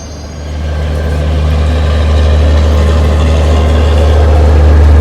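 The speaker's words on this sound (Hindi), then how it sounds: "यहाँ पे अरुणाचल AC एक्सप्रेस का अराइवल हुआ और हमारा डिपार्चर एक साथ हो गया।" Indian Railways trains at a station, the Arunachal AC Express arriving while an Avadh Assam Express service pulls out, give a loud, steady low diesel rumble that swells slightly and holds without a break. No voices are heard.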